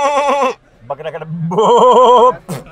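Someone imitates a goat bleating: two wavering, nasal bleats up close, separated by a short low grunt.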